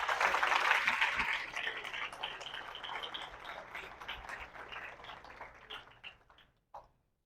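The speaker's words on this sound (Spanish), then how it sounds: "yo le daría un fuerte aplauso a esa palabra" An audience claps at a church sermon, a scattered round of applause that starts strongest and tapers off over several seconds, ending with a few last claps.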